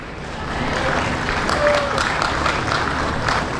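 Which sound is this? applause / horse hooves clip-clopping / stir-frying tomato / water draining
applause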